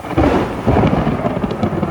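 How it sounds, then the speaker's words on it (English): Loud thunder rumbles continuously through a passing thunderstorm, with a couple of heavier swells, and a faint patter of rain sits underneath; no voices. "Oh, there's a big blast of lightning."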